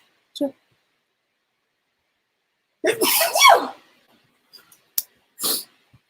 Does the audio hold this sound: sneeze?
yes